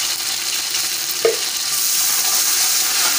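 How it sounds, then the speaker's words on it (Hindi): Ginger garlic paste fries with browned onions in a pan for palak gosht, a close, even sizzle with a brief stir knock partway through, building slightly louder afterward, no voices. "सबसे पहले हम इसमें 2 चम्मच अदरक लहसुन का पेस्ट डालेंगे"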